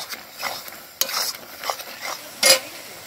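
Spices being stir-fried in a pan for a Bangladeshi country-chicken curry, with a spatula scraping and stirring in short bursts and a soft sizzle underneath, one sharper clatter near the end.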